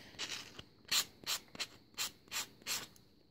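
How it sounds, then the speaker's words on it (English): Metal charm edges are rubbed against the dark gray side of a metal reliefing block in seven or eight quick, rhythmic rasping strokes, close and alone. "you could use the dark gray side of our metal reliefing block. This also helps with smoothing any rough edges"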